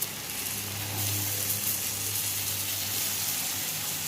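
Spice paste sautéing in a pan in a home kitchen, a soft continuous close hiss and sizzle with a faint steady hum underneath.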